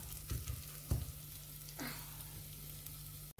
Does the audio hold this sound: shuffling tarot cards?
no